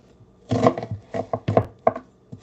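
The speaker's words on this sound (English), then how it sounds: "I'm going to go ahead and chop this onion up real quick" A knife chopping an onion on a cutting board in a home kitchen, a quick uneven series of about eight close, fairly loud chops over a couple of seconds with no talking.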